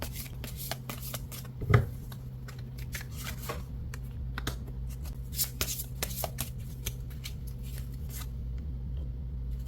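Tarot-style fortune cards are shuffled close by as a rapid rustle of papery flicks and riffles over a low steady hum, with one louder snap near the start.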